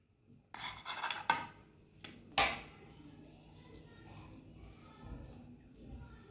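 A spoon scrapes and clinks as aate ka halwa is served onto a plate: a few rasping scoops and a sharp metallic scrape, then quieter shuffling, with a voice talking faintly underneath.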